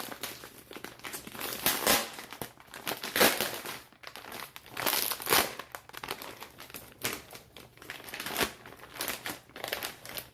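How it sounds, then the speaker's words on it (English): Tightly packed insulated packaging for a vial of compounded semaglutide or tirzepatide medication being pulled open, with close, irregular crinkling and tearing of plastic and foam in loud bursts across the whole stretch, no voices. "It has some insulation in here. So let's go ahead and open up the packaging."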